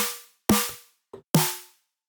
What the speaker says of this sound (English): How to synthesize a snare drum.